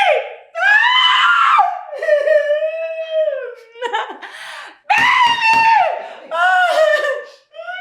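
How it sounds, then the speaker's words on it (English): A woman screams loudly and close in several long, wavering bursts separated by short gaps, with sobbing, distressed vocal cries between them. "Why are you screaming?"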